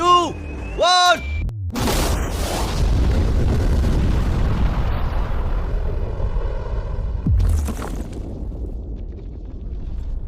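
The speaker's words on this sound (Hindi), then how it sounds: "लेकिन ये एक असली धमाका है।" A huge explosion blows up a safe right after a countdown voice, a massive boom followed by a long roaring, rumbling blast and debris noise that fades slowly, with a second thud later.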